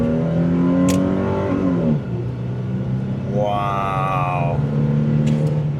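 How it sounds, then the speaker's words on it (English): A Holden Commodore with a nearly 4-litre engine revs up close and loud, its rising and falling drone climbing in pitch through the middle before settling back to a steady rumble, with a brief voice exclamation at the start. "oh man, that's an engine."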